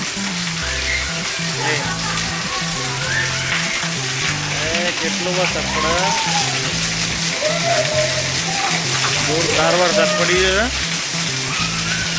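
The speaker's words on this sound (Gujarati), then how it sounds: "વરસાદ જોરદાર પડે છે વીજળીઓ ગાજે છે વરસાદ ગાજે છે" Heavy rain pours down in a dense, steady hiss with thunder while a person talks over it.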